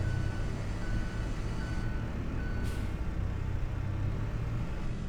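A teleskid's reversing alarm, three or four steady evenly spaced beeps over a low diesel engine rumble, with a brief hiss partway through.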